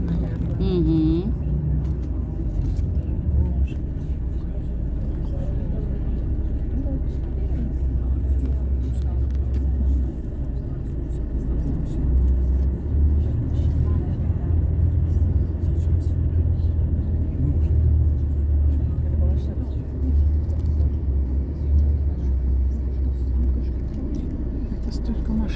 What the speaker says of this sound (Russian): Это столько машин загрузилось